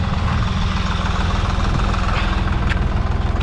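Deutz 55 F tractor diesel engine idling, a loud close, steady low chugging rumble with a fast even knock and rattle throughout, no voices over it.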